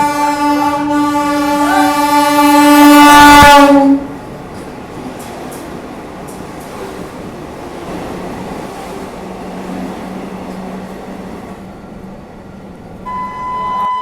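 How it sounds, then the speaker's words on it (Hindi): Vande Bharat Express 22435 Varanasi–New Delhi train approaching and passing, a loud sustained multi-tone horn blaring for about four seconds, then the rumble and rush of the passing coaches continuing steadily, with a brief horn-like tone near the end. "सामने से आ रही है इंडिया की फर्स्ट वंदे भारत एक्सप्रेस 22435 वाराणसी नई दिल्ली वंदे भारत एक्सप्रेस"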